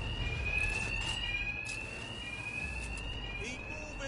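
Alarms ringing in Batman: Arkham Knight, a steady high electronic tone held continuously beneath a voice and low game background noise.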